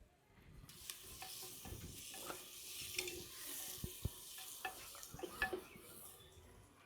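Onions frying quietly in a pan for egg biryani, a soft sizzle broken by scattered stirring scrapes and light clinks of a utensil against the pan, with no speech.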